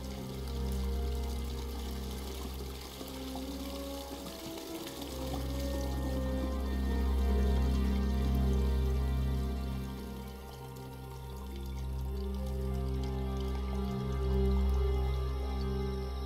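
Water drains away after a pump is switched off in the video game Broken Sword: a steady pouring, trickling flow sits under sustained tonal game music, with a brief splashy burst near the middle.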